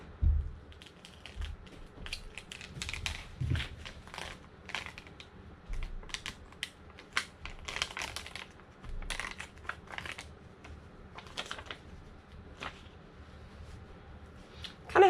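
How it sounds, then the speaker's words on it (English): Rhinestone transfer sheet being peeled off a Cricut project, faint close-up crackling and ticking with irregular small bursts over a quiet background, no talk. "I'm going to go ahead and start peeling."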